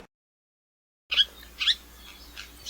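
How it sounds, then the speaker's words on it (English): After a moment of silence, a few short, bright house sparrow chirps sound close by, spaced irregularly against faint outdoor background. "House sparrow."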